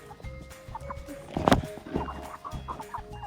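Several meat chickens cluck softly and steadily up close while eating, with a sharper squawk partway through amid faint scratching and pecking.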